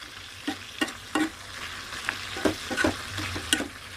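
Paneer (chheni) and beans curry stirred in a pan, rhythmic spoon scrapes over a low sizzle, close and distinct with no one speaking.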